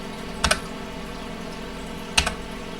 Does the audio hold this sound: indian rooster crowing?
no